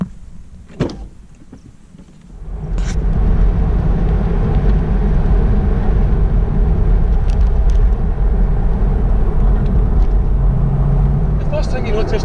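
A Porsche Boxster pulls away after a brief click, settling into a steady, loud low rumble of engine and road noise that continues without a break.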